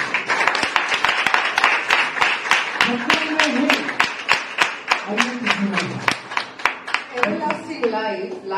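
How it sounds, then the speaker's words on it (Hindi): Church congregation clapping in a steady rhythmic beat, sharp even claps continuing throughout, with a voice singing or speaking along over them. "तालियां लगाइए प्रभु के लिए।"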